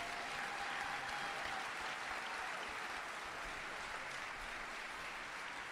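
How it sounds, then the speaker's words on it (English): Audience applause at a live event in Paris, a steady wash of clapping from a large crowd that continues evenly throughout, heard at a distance and fairly faint. "On peut l'applaudir très fort."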